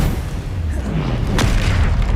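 A Confringo fire-blast spell goes off in Hogwarts Legacy, a dull booming burst amid continuous game ambience and rumble, with a sharp flash of noise partway through.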